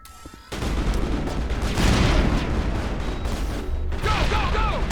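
Dense, continuous gunfire from a Mass Effect firefight, rapid bursts and booms packed together at high loudness after a brief quieter lead-in, with shouted voices mixed in under the shooting.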